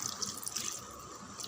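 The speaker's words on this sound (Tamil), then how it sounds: "ஒரு 1/2 டம்ளர் தண்ணிக்கு கொஞ்சமாக விடுங்க." Half a tumbler of water runs into a pan of fish curry, splashing steadily for a moment, a soft, hissy pouring sound at low volume.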